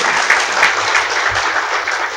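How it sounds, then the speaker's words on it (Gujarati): Audience applause at a gathering where a donation is being honoured, a dense, steady patter of many hands clapping at once that holds throughout without pause. "ફરીવાર એમને જોરદાર તાળી બતાવે"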